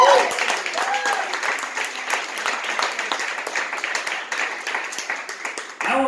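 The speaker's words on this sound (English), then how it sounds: "Give them another round of applause." A crowd applauds poetry performers at a live event, sustained clapping and some cheering, with a voice briefly heard at the start and end.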